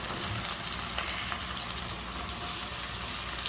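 Roughly 750 g to 1 kg of cubed meat hits hot oil in a pot and sizzles and fries steadily and continuously throughout, close by, with no talking.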